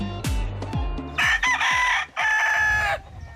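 Roosters crow repeatedly in a fighting-cock stable housing about a hundred birds, with several loud, overlapping cock-a-doodle-doos and a few clucks nearby, no voices.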